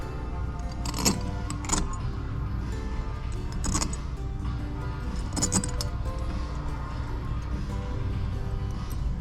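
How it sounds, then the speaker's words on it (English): Small metal screws from an Edelbrock Carter AFB carburetor rebuild set down on a bench, scattered light clinks and jingles over a steady background hum, close by. "Put these screws here."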